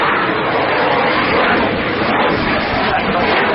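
A French Air Force Dassault Rafale C fighter jet performs a flying display at an air show, its broad, loud jet roar filling the clip steadily without breaks.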